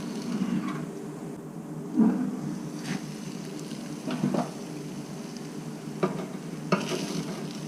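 Bacon-wrapped venison backstrap with a brown sugar glaze sizzles steadily on a grill, a soft continuous crackle with a few brief louder pops and scrapes, close by and with no talking.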